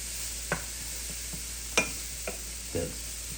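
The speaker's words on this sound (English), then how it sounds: "Now that this has been cooking for a couple minutes, let's go ahead and add our sprigs of thyme. Stir this around real quick." Garlic, shallot and thyme sprigs sautéing in butter in a pan, stirred with a few distinct scrapes spaced out over a soft steady sizzle, fairly close and quiet, with no talking.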